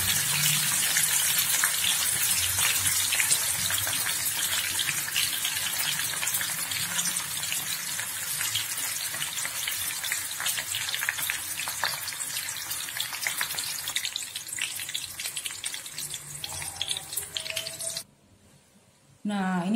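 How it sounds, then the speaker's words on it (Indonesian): Vegan egg sizzles loudly in hot oil, a dense, continuous close crackle that fills most of the clip before cutting off abruptly near the end, with faint voice in the background. "saya goreng dulu telur vegannya."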